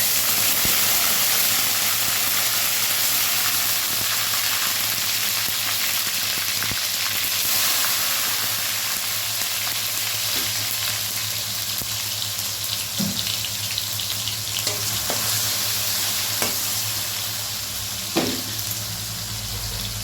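Vegetables including eggplant, radish, beans and potato fry in a pan as tomato is added, giving a steady loud sizzle with a few brief clinks near the end, no talking.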